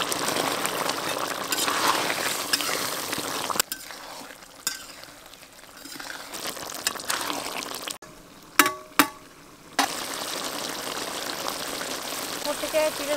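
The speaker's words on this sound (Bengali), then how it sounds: "বেগুন সিদ্ধ হয়ে গেছে এবারে মাছ দিয়ে দেবো মাছ ভাজা দিয়ে দেবো" Fried fish goes into a pan of boiled eggplant, giving steady sizzling and stirring over wet, bubbling liquid, broken by a few sharp clatters and pauses while a voice speaks at times.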